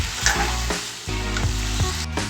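Pieces of meat sizzle steadily in a hot pan, with a few scraping stirs and soft clatters of the spatula close by.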